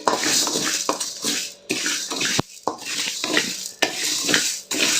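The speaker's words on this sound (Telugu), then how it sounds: "ఇవి కూడా కొంచెం ఇంకొంచెం వేయించుకుంటాము" Whole spices for sambar masala are stirred as they roast in a pan, a close, busy scraping and rustling with a soft sizzle, broken by short pauses between strokes.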